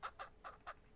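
Four evenly spaced clucks come from chickens in the ranch-building game Ranch Simulator, close and distinct, with no talking over them.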